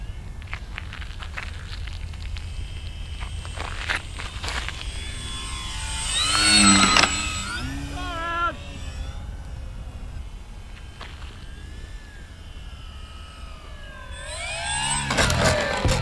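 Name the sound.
Durafly Tundra RC plane with Bigfoot wheels, throttle cut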